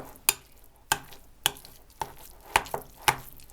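Spoon strokes stir a festive salad appetizer in a bowl, six sharp scraping clicks at a slow, roughly even pace, close and fairly quiet, with no voices.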